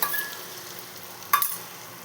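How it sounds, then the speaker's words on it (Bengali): Green peas fry lightly in a wok with ginger and green chilli paste, a soft sizzle broken by a short stirring scrape at the start and another near the end, no speech. "এটা একটু ভেজে নেবো হালকা করে। কড়াইশুঁটিটা দিয়ে দেবো।"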